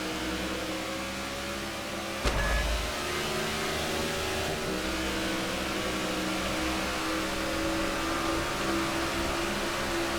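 A NASCAR field of race cars gets underway at Dover in a racing video game, a steady, fairly quiet engine drone with sustained tonal whine and one brief low thump early on.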